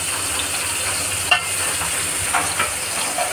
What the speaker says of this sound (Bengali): চিংড়ি মাছ দিয়ে দিলাম